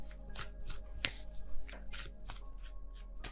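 Tarot cards shuffled by hand close up, a quick series of crisp riffling bursts and slaps in an uneven rhythm, fairly quiet with no talking.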